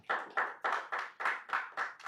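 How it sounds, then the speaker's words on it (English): A conference audience at an investment masterclass in Doha claps in steady bursts, about eight loud swells of applause in quick rhythm, no voices over it. "I think you should clap at this point."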